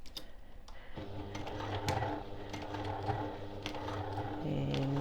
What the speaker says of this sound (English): You might need to give your machine a little helping hand up over that lump.